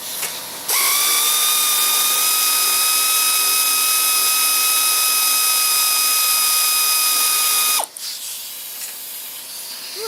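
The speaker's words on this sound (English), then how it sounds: "There goes the air compressor" Air compressor kicks on abruptly and runs with a loud, steady high whine and hiss for about seven seconds, then cuts off, in a workshop during a John Deere LA110 mower deck spindle repair.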